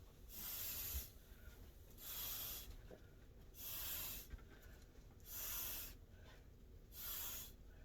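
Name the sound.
spray bottle spritzing onto alcohol ink painting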